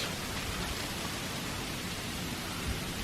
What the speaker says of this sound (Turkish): Dolu yağıyor şu anda. İnce ince dolu yağıyor.